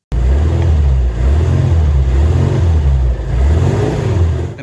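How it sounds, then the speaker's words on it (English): A classic car engine starts up and runs at a steady, loud idle right after an oil change, its low throbbing hum pulsing gently with slight rises in revs throughout, with no talking. "Now you can put the leads back on and start the engine."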